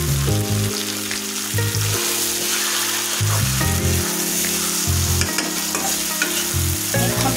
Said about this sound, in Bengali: এভাবে শুধু তেলেই ভেজে নেব।